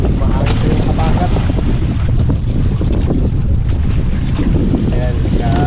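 Strong wind buffets the microphone on a boat at sea, a constant loud roar mixed with engine rumble and splashing water.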